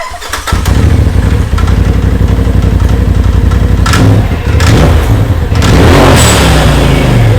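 A Polaris RZR Turbo S with an aftermarket tune, blow-off valve and charge pipe starts up and runs loud and close, a steady rough engine drone with brief revving swells.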